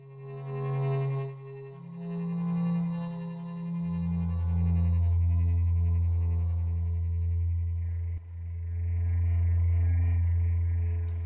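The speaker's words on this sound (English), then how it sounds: "Maybe let's try on the droner, maybe." Ableton Live droner effect rack processing a sound into a sustained, layered drone: a steady low hum shifting pitch midway, with faint high shimmering tones above, continuous and moderately loud with no talking.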